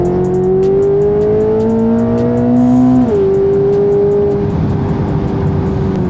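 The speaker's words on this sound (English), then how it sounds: "If I want to do a donut, if I want to just go crazy like how it is right now" Rear-wheel-drive Chevrolet Corvette C8 ZR1 spinning a donut, engine droning loudly at steady high revs with a rising then dropping pitch, tires scrubbing and hissing as they lose grip, close and continuous.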